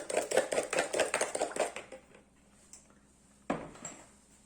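Eggs with pepper being whisked in a bowl for a spinach tortilla, a quick rapid series of close clicking strokes that stops, then a single clink after a pause.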